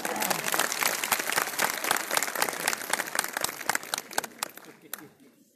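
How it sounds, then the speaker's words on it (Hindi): A crowd applauds loudly with dense, sustained clapping that thins into scattered claps near the end before fading out. "एक बार जोरदार ताली बजा लीजिए।"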